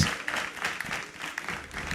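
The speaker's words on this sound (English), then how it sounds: "can we keep the applause going?" A crowd at a Ghanaian awards ceremony keeps up sustained applause, steady dense clapping that fills the room without pause.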